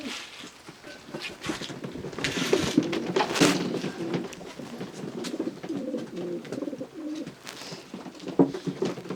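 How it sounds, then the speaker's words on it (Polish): Breeding racing pigeons coo in low, soft, repeated calls, close by, with fluttering and shuffling noises throughout. "Następny gołąb to oryginalny gołąb od Roberta Bauera."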